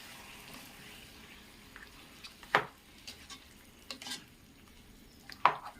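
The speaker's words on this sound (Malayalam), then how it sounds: "നല്ലതുപോലെ ഇളക്കി കൊടുക്കണേ." A spoon stirs ground green chilli and tomato paste in a cooking pot with a soft, quiet sizzle, broken by a few sharp scrapes and clinks.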